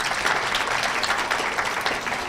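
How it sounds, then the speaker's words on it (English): Warm applause from a conference audience at a DC women's activism panel, honoring the committee members, steady dense clapping sustained throughout without pause. "Join me in a big, warm round of applause for our committee members."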